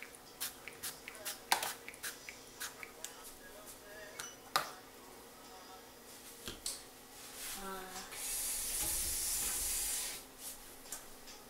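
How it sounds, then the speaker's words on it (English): Cooking spray hisses into silicone Egglette egg cups in a steady burst of a couple of seconds, preceded by scattered clicks and light handling taps of the plastic pieces. "So I'm just going to keep spraying."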